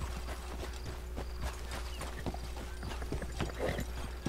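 Horses gallop in the video game Red Dead Redemption 2, a busy stream of clip-clopping hoofbeats with a faint whinny, steady and close over ambient game sound, with no talk.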